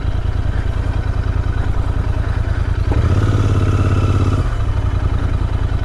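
A motorcycle moves slowly along a muddy off-road trail, its engine chugging steadily up close, with a brief rise in revs and a rougher note midway before it settles back to a low pulse.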